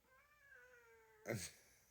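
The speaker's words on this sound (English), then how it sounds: "It's a strange sounding meow." A cat gives a strange, drawn-out meow followed by a short, louder, harsher cry, close by and alone with no talking.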